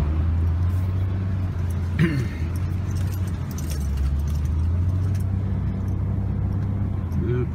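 Steady street traffic on Midland Avenue in Garfield, New Jersey, a continuous low rumble of engines and road noise heard from close by, with a brief jangle of keys and light clatter partway through.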